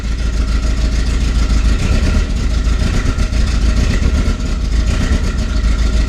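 A Mk2 Volkswagen Golf GTI engine, freshly restored and running lumpy, chugs loudly and steadily at close range with a rough, uneven pulse and slight revving throughout.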